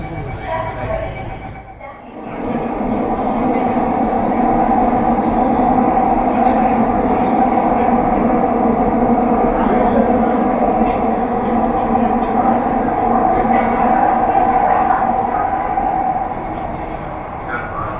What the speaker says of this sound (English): This is a noise when the trains on a curvature, very common on underground sections of trains.